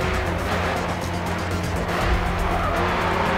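Mustang race car in the Grid 2 racing game, engine roaring steadily with tires squealing and skidding throughout, loud and continuous.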